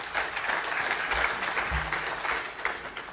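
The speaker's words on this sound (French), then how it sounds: "Merci de les applaudir," Audience applause at the closing ceremony of a national dialogue, a steady wash of clapping from a large crowd that stays fairly even and continuous throughout.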